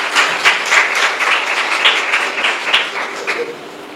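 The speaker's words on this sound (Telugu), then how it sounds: "చప్పట్లు కొట్టండి ఒకసారి." A church congregation claps hands together, a loud, dense burst of applause with a slightly rhythmic pulse that carries on for several seconds before easing off toward the end.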